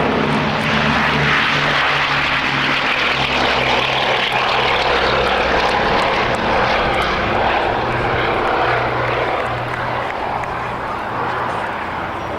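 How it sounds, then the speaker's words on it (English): A Bristol Blenheim aircraft rolls down the runway for takeoff, its propeller engines producing a loud, continuous droning roar that holds steady throughout with little change. "The Blenheim rolls down the runway from the right."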